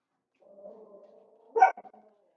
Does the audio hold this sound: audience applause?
no